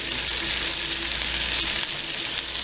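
Seasoned hamburger patties sear in a hot pan with a steady, close, even sizzle that holds for about three seconds without a break.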